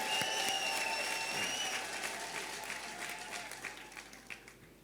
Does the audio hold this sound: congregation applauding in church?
yes